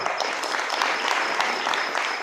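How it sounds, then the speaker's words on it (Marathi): Audience clapping steadily to welcome a shahir singer at a Marathi folk performance, dense sustained applause from a crowd throughout with no talk over it. "त्याच्यासाठी जरा टाळ्या वाजवून स्वागत करा"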